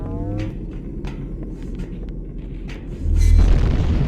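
Grenade explosion in Halo: Combat Evolved gameplay, a deep booming blast that swells near the end over continuous low rumble and scattered game effects.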